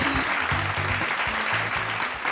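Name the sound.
audience applause at awards ceremony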